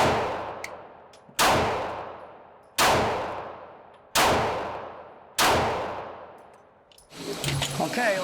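Five loud, sharp pistol shots from a Glock Gen 6 fired at a range, evenly spaced about 1.4 seconds apart, each with a ringing decay, followed by brief clattering noise.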